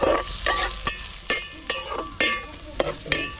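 Onion and green chillies frying in hot oil, a bright crackling sizzle punctuated by regular sharp scrapes and knocks of the stirring spoon, close up with no voices.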